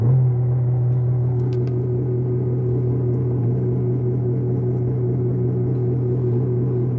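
A car engine with a powershift transmission runs at a steady high idle, a loud, continuous low hum with strong even tones and no change throughout.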